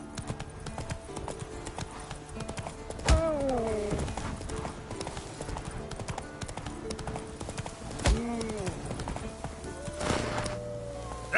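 Roach the horse gallops in The Witcher 3, hooves clip-clopping in a quick steady rhythm, broken by a couple of snorts and whinnies, while a voice speaks briefly.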